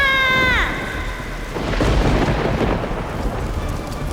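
A violent storm with rolling thunder and rain, loud and continuous; a falling harmonic tone sweeps down in the opening half-second before the deep rumble and rain noise take over.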